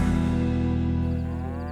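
Cattle in a Kansas field give a long, loud, low moo that holds steady and then slowly fades, heard close and alone.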